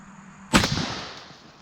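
A single sharp report from an Airforce Texan .457 big-bore air rifle striking a pumpkin outdoors, a loud crack followed by a short decaying splatter.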